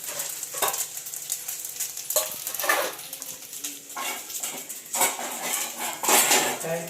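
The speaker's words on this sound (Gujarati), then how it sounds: "બિરયાની ગરમ કરું છું કાલની." Yesterday's biryani being reheated in a pan at home: repeated metal scraping and clinks of a spoon against the pan over a soft sizzle, close and fairly loud, with no talking.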